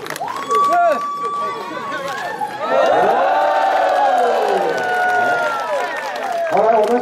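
A crowd at the Saisiyat pasta'ay (dwarf spirit) ceremony in Hsinchu, 2014, shouts and cheers loudly and continuously, with raised voices close by.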